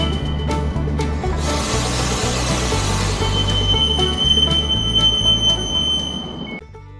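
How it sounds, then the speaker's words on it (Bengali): Steady rumbling noise of a train travelling from Vienna, Austria, to the Czech Republic, with rhythmic low thumps of wheels on rail joints and a faint high squeal, continuous, ending abruptly. "ফাইনালি আমরা ট্রেনে উঠে গেছি"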